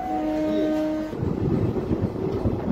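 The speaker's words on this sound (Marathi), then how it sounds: "पूर्णा इथून आपली ट्रेन रवाना झालेली आहे" A train pulls out of Purna station, a horn holding for about a second before giving way to the rising rumble and clatter of moving cars, with no voices.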